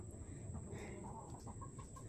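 A mother hen clucks softly in a rural Filipino yard, several short clucks at a distance under steady background hiss and low ambient noise.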